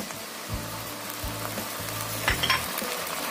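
Ginger paste and fried onions sizzle steadily in hot oil for a fish curry, with a continuous frying hiss, low clanks of stirring, and a few brighter spatters near the end.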